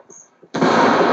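A frag grenade goes off in the Ghost Recon Wildlands game as a sudden loud, close blast that rolls on after some faint sounds just before it.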